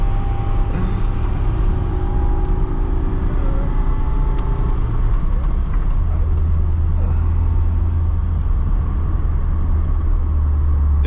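Cabin sound of a 2010 LADA 2107 with a 1.6 engine on the move: a loud, steady low rumble of engine and road noise that continues without a break.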